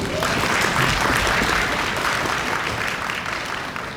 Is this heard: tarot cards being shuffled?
no